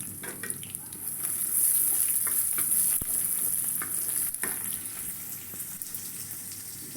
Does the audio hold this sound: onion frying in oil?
yes